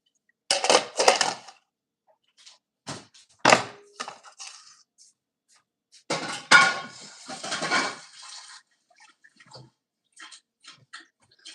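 Dishes, pots and cutlery clatter into a kitchen sink in several separate bursts, clinking and knocking at close range, with a brief run of water partway through and quiet gaps between.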